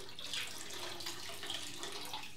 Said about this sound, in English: I'm gonna drain off that bloom water.